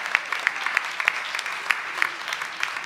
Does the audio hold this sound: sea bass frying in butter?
no